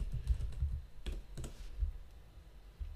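Typing on a computer keyboard to enter a keyword into a domain search, with close, quick bursts of clicking keys and short pauses between them.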